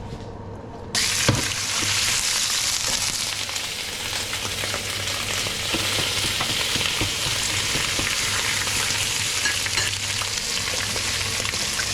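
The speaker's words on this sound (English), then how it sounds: "I'm just going to add again some olive oil and fry the prawns" Prawns fry in olive oil in a pan with a loud, steady hiss of sizzling that starts abruptly after a brief pause and continues unbroken throughout.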